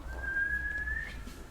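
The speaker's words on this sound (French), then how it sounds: "Le Père Noël siffle entre ses dents." Santa Claus whistling between his teeth: a single thin, steady whistled tone held for about a second, slightly rising, close and alone over faint background.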